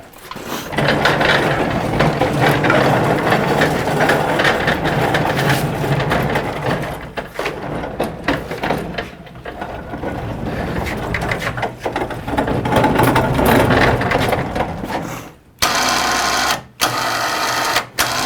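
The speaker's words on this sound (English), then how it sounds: "So this thing climbs the stairs in the back" A stair-climbing machine with chain-driven feet clanks and whirs as it works, a busy run of rattling, ratcheting mechanical clicks and grinding that pauses briefly near the end before resuming.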